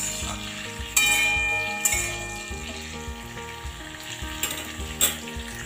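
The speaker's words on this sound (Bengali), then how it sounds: "এবার আমি সজনে ডাঁটাগুলো দিয়ে দিই। ডাঁটাগুলোকে তেলের সাথে ভালো করে মিশিয়ে নেব।" Drumsticks fry in hot oil with spices in a loud, steady sizzle, broken by a few sharp scrapes and knocks as they are stirred in the pan, with no speech.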